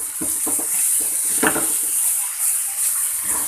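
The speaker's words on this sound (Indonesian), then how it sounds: "bumbu kita tumis sampai matang biar harum bau" Ground spice paste with bruised lemongrass and bay leaves sautés in a pan for Betawi sayur asem, a constant close sizzle broken by several stirring and scraping strokes, with no voices.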